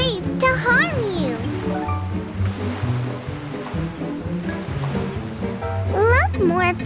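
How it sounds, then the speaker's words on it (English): A cartoon sea surges and rumbles with wild ocean waves under an angry sea king. The roar is continuous, with swooping chirpy effects and voices speaking over the churning water. "That's why the waves are so wild."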